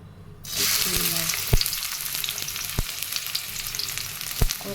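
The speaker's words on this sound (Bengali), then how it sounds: "কড়াইতে দিলাম সরষের তেল আর পেঁয়াজ কুচি" Chopped onion hits hot mustard oil in a wok and bursts into a loud, steady sizzle, with a few sharp clinks of a spatula or stirring spoon scattered through it.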